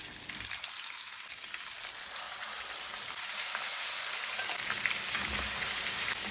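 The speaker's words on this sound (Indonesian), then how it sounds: "Selanjutnya aku akan goreng ayam ungkepnya." Pieces of braised chicken lightly dusted with wheat flour frying in hot oil, a steady close sizzle with crackling pops that grows slightly louder over several seconds, no voices.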